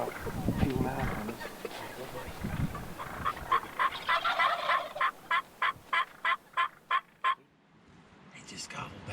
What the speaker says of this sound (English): He just gobbled back.